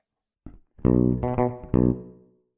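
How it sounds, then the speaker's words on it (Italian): Fretless bass with the tone knob opened plays a few sustained notes with a brighter, fuller attack, close and alone, each note ringing out and fading. "Quanto cambia un suono agendo solo sulla manopola del tono."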